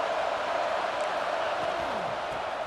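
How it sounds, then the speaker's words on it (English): Dense, continuous stadium crowd noise from a college football video game, Notre Dame versus Virginia Tech, a loud unbroken roar with faint commentary underneath. "This crowd bringing the energy and noise early."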